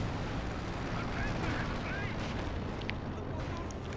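Artillery shells bursting on a battlefield in the strategy game Company of Heroes 2, a dense, continuous rumble of loud explosions and gunfire, with faint whistles and crackles mixed in.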